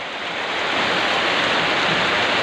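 Heavy rain in Quezon City pours as a dense, loud, continuous wash of noise that swells slightly at first and then holds steady.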